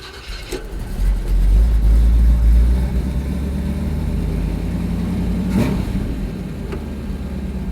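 An old station wagon, a car with a faulty gas pedal being nursed home, drives with its engine running. A loud, steady low drone with a swell of heavier rumble early on and faint clunks along the way.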